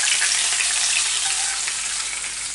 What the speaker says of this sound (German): Da tue ich jetzt mein Fett auch drüber gießen.